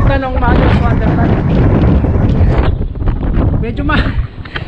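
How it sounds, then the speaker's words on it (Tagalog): Strong gusting wind on a hilltop summit buffets the microphone with a loud, steady rumble, while a voice speaks faintly underneath. "Medyo mahangin."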